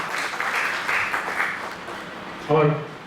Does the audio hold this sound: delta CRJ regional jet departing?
no